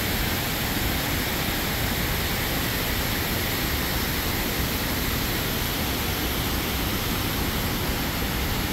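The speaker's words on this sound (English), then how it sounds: "my other favorite part of Lock 3, 4, what do you want to call it, this waterfall" A waterfall at Lock 4 in Akron, Ohio, pours steadily as a dense, even rush of water, loud and unbroken throughout.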